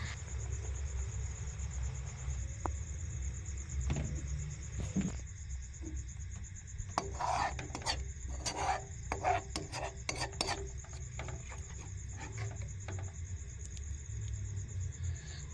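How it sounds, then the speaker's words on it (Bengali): A spoon scraping and stirring chhana with milk and sugar in a pan over medium heat, soft rasping strokes in bursts over a low steady hum, no talk. "আর আমি ততক্ষণে অনবরত নাড়তে থাকবো যাতে লেগে না যায়।"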